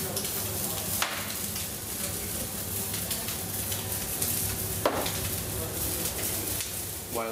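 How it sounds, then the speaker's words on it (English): Sous-vide pigeon seasoned with salt and pepper frying in fresh butter, a steady close sizzle with occasional clinks and stirring noises and brief talk in between. "I'm shortly going to bake it in some fresh butter."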